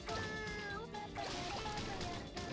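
A cat meows in the video game Katamari Damacy, a few short mewing calls mixed over the game's bright background music at moderate level.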